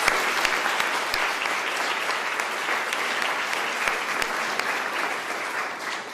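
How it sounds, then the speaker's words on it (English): Sustained crowd applause fills the room for student-athlete impact players at a University of South Carolina Union ceremony, dense and steady clapping with a few sharper individual claps, no speech over it. "Can we give all of our impact players another round of applause?"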